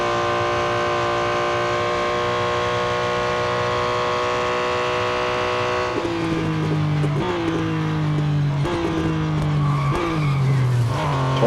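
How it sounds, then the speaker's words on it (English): A race car in Real Racing 3, at Le Mans, holds a loud, steady engine note, then brakes hard with stepped downshifts as the pitch falls repeatedly, tires scrubbing and squealing through the slowdown. "Do some hard braking."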